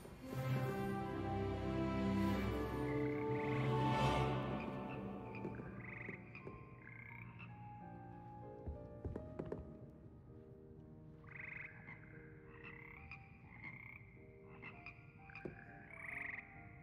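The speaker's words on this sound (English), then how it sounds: "Oh, they're frogs." A frog choir in a video game croaks in layered, musical tones, starting thick and loud and then thinning to scattered, rhythmic croaks that repeat in short bursts, with no talking.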